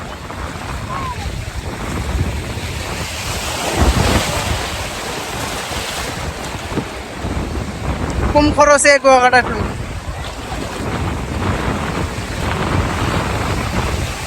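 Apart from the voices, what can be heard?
sea waves and wind on Kuakata beach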